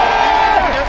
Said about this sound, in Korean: 여러분의 이 뜨거운 함성